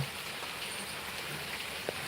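Steady rain falls in a continuous, even hiss close by, with one small splash or tap near the end and no voices.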